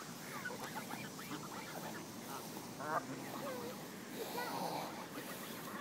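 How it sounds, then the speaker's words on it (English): Ducks and geese quack and honk in a busy cluster close by as they follow people feeding them bread, with children's voices and chatter mixed in throughout. "Look at all these ducks and geese following us, Emma."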